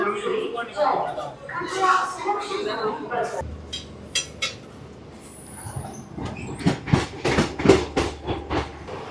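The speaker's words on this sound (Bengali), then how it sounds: "বর্ধমান থেকে ছাড়লো আমাদের ট্রেন" The 12311 Netaji Express pulls out from Bardhaman with a rumbling carriage. Voices talk at first, then rhythmic clickety-clack wheel beats grow louder and closer toward the end.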